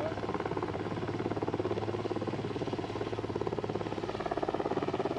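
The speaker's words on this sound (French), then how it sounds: "Là actuellement il y a un hélicoptère qui nous transporte de l'eau" An army helicopter ferrying water to alpine pasture chalets in Vaud during a drought produces a steady, fast rotor chop with a low engine drone, sustained and moderately distant throughout.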